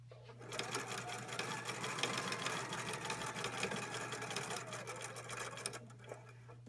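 A sewing machine runs steadily while stitching two rows of gathering along a garment edge, a close, continuous mechanical whir with a low motor hum that stops near the end.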